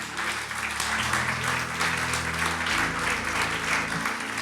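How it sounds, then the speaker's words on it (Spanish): A church congregation applauds steadily for the full stretch, a dense even clatter of many hands over sustained low instrumental tones that shift midway. "Dale un aplauso al Señor."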